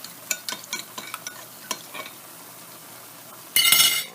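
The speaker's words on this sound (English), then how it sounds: "Give it a little stir" A utensil stirs cornstarch into a chicken stir-fry mixture in a pan, a run of quick scraping clinks and taps that pauses briefly, then a loud burst of sizzling as the mixture hits the heat.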